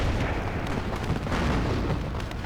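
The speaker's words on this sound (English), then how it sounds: "our high explosive bomb comes off, blows up" A deep, rumbling blast of a high-explosive bomb in the video game WARNO, with a rolling boom that fills the clip, followed by crackling debris-like noise.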